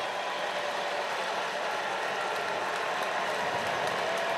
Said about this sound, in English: and the crowd comes to their feet.